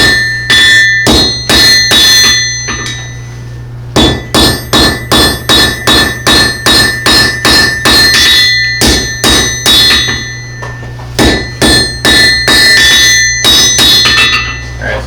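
Blacksmith's hammer forging a steel bar, rapid rings of loud metallic strikes in rhythmic bursts with brief pauses, close and bright, each blow ringing slightly.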